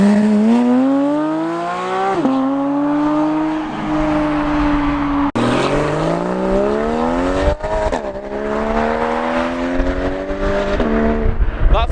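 A Porsche 992 GT3 engine screams as it accelerates hard out of a corner, loud and close, rising through the revs with sharp gear changes, its howl climbing again after each shift.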